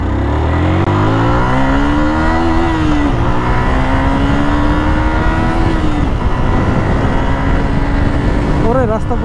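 Loud motorcycle engine revving up through rising pitch sweeps as the bike accelerates on an empty night road, close and continuous with wind noise and a rider's voice briefly heard over it.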